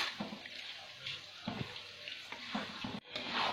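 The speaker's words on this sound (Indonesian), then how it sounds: "Ini aronnya masih saya aduk terus sampai airnya benar-benar nyerap ke beras" Half-cooked yellow rice (aron) is stirred in a pot with wet, scraping strokes at an uneven rhythm under a hissing bubble, close and moderately loud, with a brief drop near the end.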